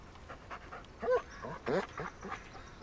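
A dog in the video game Blair Witch makes short, close snuffling and panting sounds, with a few quick bursts rising over a low steady background.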